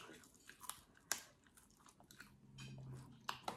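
Close, crisp crunching bites and chewing of crunchy dried fish, irregular sharp cracks amid softer mastication, quiet and alone with no talk.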